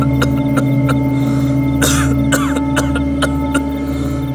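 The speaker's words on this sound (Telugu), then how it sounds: "ఏంట్రా దగ్గుతున్నావేంట్రా?" A man coughs and clears his throat in a series of short, harsh bursts over a steady droning background, the coughs spaced irregularly and close to the listener.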